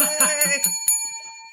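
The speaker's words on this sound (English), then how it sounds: "I got to figure out what this bell is for." A bell sound effect rings out on a podcast, struck in several bright, ringing hits over the first second that fade into a sustained tone, with people talking around it.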